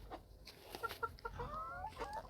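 Chickens cluck softly and close by in a farmyard, with a few short quiet clucks and warbling calls over a low background hum.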